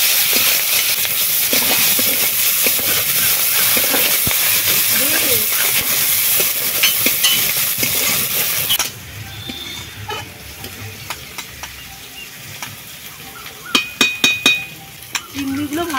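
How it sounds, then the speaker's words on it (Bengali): Prawns with five-spice and turmeric hit hot oil in a loud, continuous close sizzle that drops suddenly to a quieter crackle with clinks of stirring, while a voice talks over it. "তেলের মধ্যে দিয়ে দিচ্ছি 5 ফোড়ন, চিংড়িগুলো দিয়ে দিচ্ছি"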